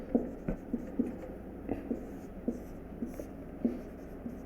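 Chemistry notes being written by hand, a pen scratching and tapping on paper in short irregular strokes, close and soft, with no talking.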